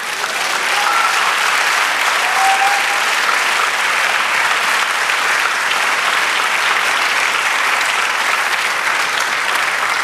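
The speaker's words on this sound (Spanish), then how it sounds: "Dale un aplauso al Señor." A church congregation breaking into sustained applause, a dense, even roar of many hands clapping that fills the room for about ten seconds without letting up.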